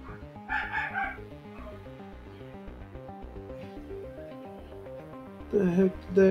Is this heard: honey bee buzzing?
no